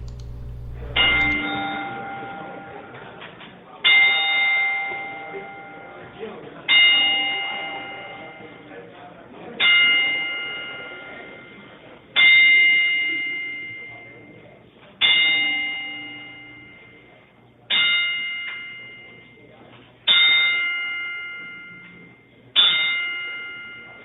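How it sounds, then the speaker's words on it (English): Ten-bell salute for a fallen wrestling comrade: a bell struck ten times in slow, steady succession, each clear metallic ding ringing out and decaying before the next, heard alone with no talk. "we'd like to do a 10-bell salute to our fallen comrade, The Zombie."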